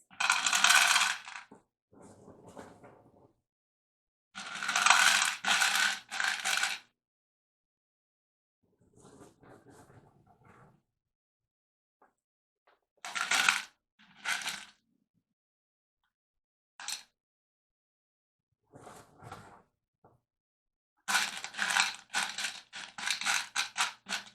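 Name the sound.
decorative rocks poured into glass container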